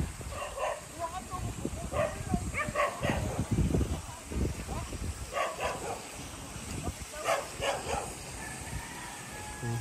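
Dogs barking and yipping near a caretaker's house on an island in Padre Burgos, Quezon, a scattered run of short yelps and whimpers under people talking nearby.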